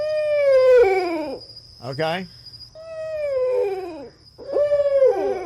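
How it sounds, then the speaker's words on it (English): A real owl call played during a guessing game: three drawn-out, wavering calls that slide downward, separated by short gaps, over a thin steady whine, with a brief spoken word between them. "That is actually a real owl there, Leo."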